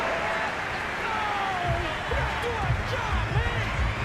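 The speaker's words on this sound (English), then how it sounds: "This home crowd, they're happy with that call." A home stadium crowd in Madden NFL 22 roars after a penalty flag in a Ravens vs Bengals game, a steady broad cheer with thumping underneath and a commentator talking over it.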